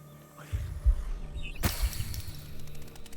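A serum injector goes off in the zombie video game Last Stand: Aftermath, heard as a low, throbbing, heartbeat-like pulse with a sudden sharp burst partway through, over a faint background hum.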